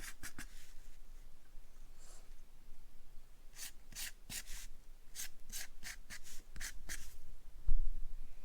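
Soft scratchy strokes of a pencil on paper, quick bursts in a loose rhythm, close up and quiet against a faint background hiss.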